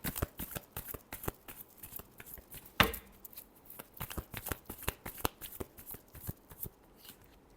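Tarot cards are shuffled by hand in a rapid, crisp riffle of flicks and slaps, with one sharper burst of the deck snapping together partway through, close and fairly quiet.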